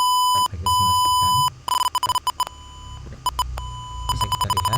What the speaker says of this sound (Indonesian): buzzer akan memberikan peringatan dini